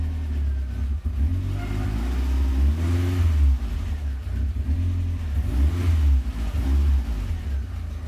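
The engine of an AWD Mini Cooper under repair revs and idles nearby, a continuous low rumble rising and falling in several surges with no talking.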